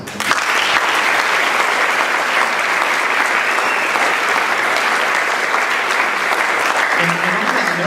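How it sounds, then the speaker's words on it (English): A seminar audience at a San Antonio mastermind event claps for one another in a loud, steady burst of applause that stays dense and even throughout, with a voice starting faintly at the very end. "applaud for the people around you right now"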